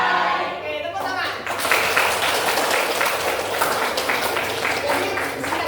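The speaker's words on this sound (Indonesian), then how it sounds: "Oke, tepuk tangan." A group of people clap their hands together in a steady burst of applause, a dense close patter that carries on from just after the start to the end.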